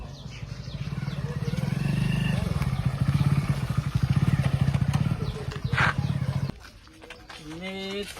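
A motorcycle engine chugs with a rattly, pulsing idle close by for several seconds, then cuts out, while people talk over it.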